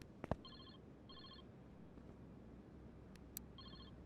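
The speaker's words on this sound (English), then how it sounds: "I'm hearing a phone ring." Phone booth ringing in Car Mechanic Simulator 2021, short repeated trilling bursts spaced about half a second apart with gaps between, faint and distant over quiet background noise, plus a couple of small clicks.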